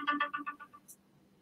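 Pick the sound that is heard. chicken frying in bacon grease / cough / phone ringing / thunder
phone ringing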